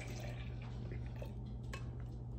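Smoothie ingredients for a peanut butter banana smoothie being poured into a blender, a steady soft liquid trickle over a low constant hum, close and fairly quiet.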